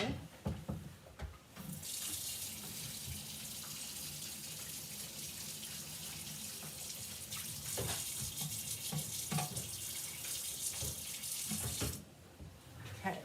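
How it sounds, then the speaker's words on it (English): Water runs steadily from a tap into a sink while something is rinsed off after a scrapbooking craft session, a loud continuous splash that starts near two seconds and stops abruptly near twelve seconds. "I'm gonna just rinse this off really good."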